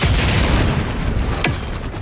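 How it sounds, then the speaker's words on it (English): A bomb goes off in God of War Ragnarok: a deep rumbling boom opens, then a sharp blast hits near the end, with lingering debris noise between and no speech. "That bomb should help us out."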